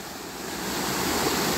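Water pouring over a small check dam near a village, a continuous broad rushing wash that swells slightly louder toward the end, heard alone.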